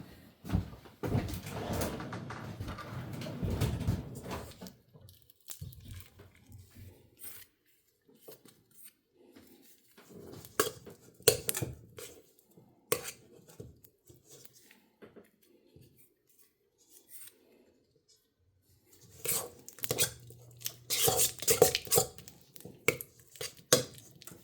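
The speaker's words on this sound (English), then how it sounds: "I'm going to cream 6 tablespoons of softened butter." Six tablespoons of softened butter are creamed in a bowl, giving intermittent scraping and clinking of a utensil against the bowl in bursts separated by quiet pauses.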